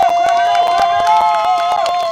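Crowd at a street protest on Chicago's Dan Ryan Expressway, loud cheering and whooping voices over rhythmic clapping, close and continuous, with a shrill sustained tone like a whistle running through it.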